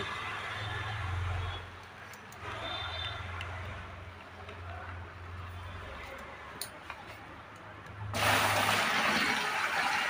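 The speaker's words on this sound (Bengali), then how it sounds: "এই জলটা আমি কুলারের মধ্যে ঢেলে দেব।" Water poured into a household air cooler during cleaning makes a continuous splashing and trickling, with a louder, brighter gush near the end.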